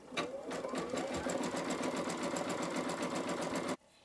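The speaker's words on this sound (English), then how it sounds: "So this is the satin stitch that makes the casings for the front." Close, loud whirring of a sewing machine running a dense satin stitch for an apron casing, continuous for nearly four seconds before stopping abruptly.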